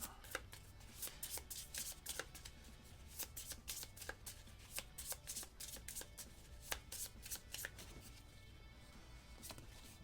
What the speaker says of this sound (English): I need to shuffle back up my cards